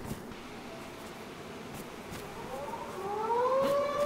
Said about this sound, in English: Oh, a raid siren.